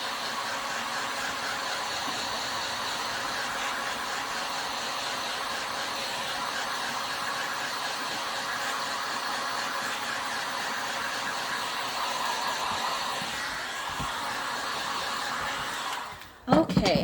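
A hair dryer blows steadily and loudly, close up, drying a painted craft piece, a constant airy whoosh lasting throughout before clicking off at the end.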